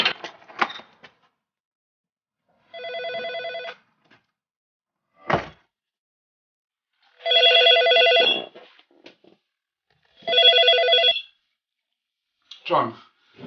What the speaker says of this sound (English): Professor Nick Humphrey gets a phone call from a colleague.